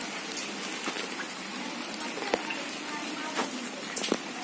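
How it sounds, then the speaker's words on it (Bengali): Heavy rain pours down onto a flooded courtyard and leaves, a steady hiss of falling water with occasional sharper drips and splashes standing out. "প্রচন্ড বৃষ্টি হচ্ছে"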